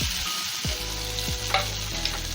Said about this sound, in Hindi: अब हम सारे मसाले हम इसमें मिक्स कर देंगे। लो फ्लेम पे डाल देंगे।